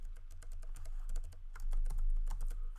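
Rapid clicking of a computer keyboard as code is typed, a quick uneven run of key taps close to the mic over a low hum, no talking.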